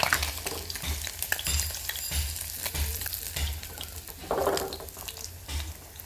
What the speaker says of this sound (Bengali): তেলটা গরম হয়ে গেলে মাছগুলোকে আমি ভেজে নিচ্ছি